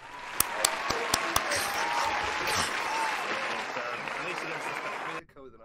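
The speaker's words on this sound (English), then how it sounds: "Hooray! Applause!" An applause sound effect: a crowd claps and cheers in steady, dense applause lasting about five seconds, with a few sharp clicks at the start, then it cuts off abruptly.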